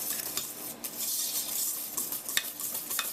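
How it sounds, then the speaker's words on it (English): A whisk beats cake batter by hand in a bowl, making quick, irregular scrapes and taps against the sides with a fairly steady rhythm, close by. "I'm going to whisk this all together"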